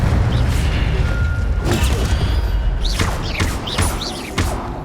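Fire spell cast in the video game Hogwarts Legacy: a loud burst and booming impact amid a busy battle mix of thuds, clanks and short chirpy magical effects, layered over a steady rumbling background.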